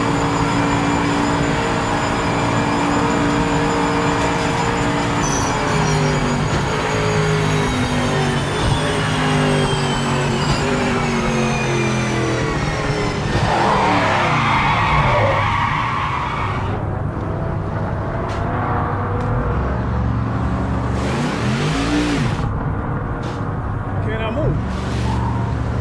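Race cars in the video game Project Motor Racing roar continuously with droning engine tones and shifting revs, tires skidding and squealing at moments, with occasional clunks and thumps as cars collide, all loud and close.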